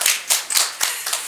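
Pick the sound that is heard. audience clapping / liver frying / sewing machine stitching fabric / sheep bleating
audience clapping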